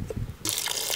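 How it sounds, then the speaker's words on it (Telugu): Water pours into a pot of frying mutton in a Telangana village kitchen, a short splashing gush that starts abruptly halfway through after a quiet murmur. "ఇగో ఇట్లా నీళ్ళు పోసుకోవాలి"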